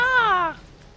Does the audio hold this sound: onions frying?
no